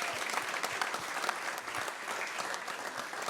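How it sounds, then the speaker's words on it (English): A stadium crowd roars and applauds without a break after a pole vault world record. The dense, loud cheering holds steady the whole way through, with scattered sharper claps and shouts rising out of the wash. "The crowd are on their feet. They're roaring him on."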